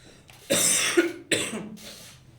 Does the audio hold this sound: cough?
yes